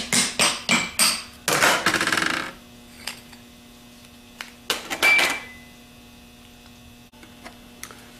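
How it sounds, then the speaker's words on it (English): A tool taps the back lid off a Denso starter with quick bursts of sharp metallic knocks. A few louder clusters come early, then scattered lighter taps, all over a faint steady hum. "Then we can just tap the back lid off."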